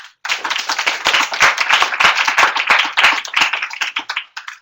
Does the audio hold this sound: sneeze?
no